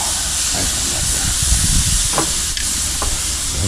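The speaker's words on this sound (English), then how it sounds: "Love to hear that sizzle" Marinated ribeye steaks sizzle on a hot Weber grill at 450 to 500 degrees. A loud, steady broadband hiss runs throughout, with a few faint clinks and shuffles of handling, and no talk.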